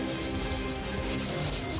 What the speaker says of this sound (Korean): 퍼티가 마르고 나면 이번엔 손사포를 활용해 표면을 다시 매끄럽게 잡아준다고 합니다.